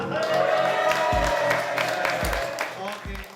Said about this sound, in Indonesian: kita kasih tepuk tangan untuk Duta SOINA selama 1 tahun ke depan, Syarif Malika dari Ambon